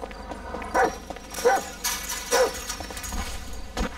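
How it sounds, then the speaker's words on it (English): A dog barks outdoors in a neighborhood, sharp repeated barks spaced about a second apart against faint background noise. "I heard a dog bark."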